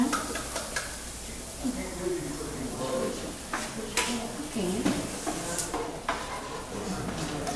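Diced onions fry in regular vegetable oil in a warming pan, giving a steady close sizzle and hiss with occasional stirring scrapes beneath a person talking.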